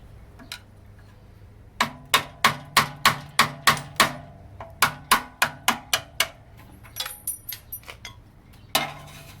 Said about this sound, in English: You can tap this thing out